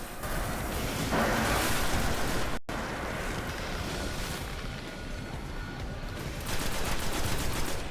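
Gunfire and an explosion from the Destiny video game, with dense, sustained crackling combat noise that surges loudly at the start and again near the end, broken by a brief dropout; nobody speaks.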